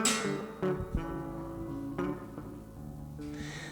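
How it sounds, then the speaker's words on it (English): A cheap electric guitar fresh from a luthier, its lowest string tuned down as far as a bass A, plucked a few times so each deep note rings out and fades, quiet and alone. "the guitar is back from the luthier, and the low string sounds like this"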